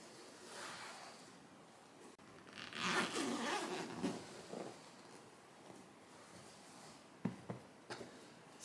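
Quiet zipping sounds as a zipper on a throw pillow cover is drawn along fabric in a few short pulls, followed by soft rustling and small clicks.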